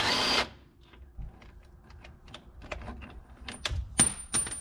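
Socket wrench with a 15mm socket loosening a bolt on a Ford F250 steering damper, a burst of noise then a run of small rapid clicks and knocks, close up with no talk.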